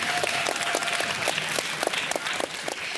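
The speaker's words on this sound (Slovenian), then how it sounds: "Dajmo en aplavz tudi za Bežigrajčane." An audience at a school quiz show final applauds one of the competing teams, a dense steady wash of clapping hands at moderate volume, with no voices over it.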